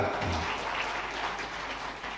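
Crowd applause for PAN chairman Zulkifli Hasan at a gathering, a steady dense wash of clapping held at an even level throughout.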